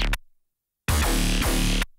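Synth bass from a Serum laser pack, run through a flanger filter, plays one dense buzzing sustained note for about a second after a short earlier burst, loud and alone.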